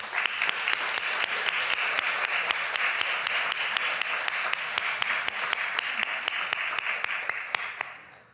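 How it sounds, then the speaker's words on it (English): Audience applause for the panelists at a Reason Magazine panel discussion, a steady dense wash of clapping hands that holds for about eight seconds before tapering off at the end. "Let's have a round of applause for our panelists."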